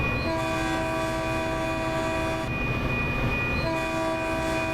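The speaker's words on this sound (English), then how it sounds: "so sound the horn and the train pass through." A commuter train's horn sounds in Train Sim World on California's Peninsula Corridor, a sustained multi-tone chord blaring loudly over the rumble of the moving train, with brief breaks between long blasts.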